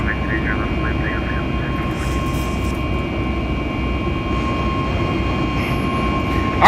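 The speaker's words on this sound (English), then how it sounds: "RNAV PM, runway 30 left, cleared for takeoff." Boeing 737 MAX 8 jet engines at takeoff in the X-Plane 11 flight simulator, a loud continuous engine roar with a steady whine and low rumble throughout, no voices present.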